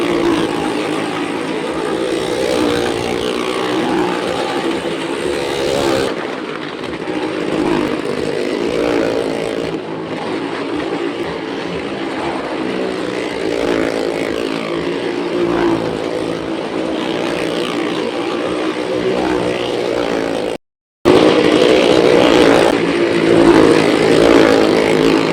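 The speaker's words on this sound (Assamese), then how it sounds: "অলপমান আগত অকল এটা বাইকে ঘূৰাই আছিল আৰু এতিয়া 2টা বাইক আৰু এল্টোখন ঘূৰাব" Two motorcycles and a Maruti Alto car circling inside a well of death, a continuous loud engine roar with revving swells and a droning, reverberant drone that briefly cuts out near the end.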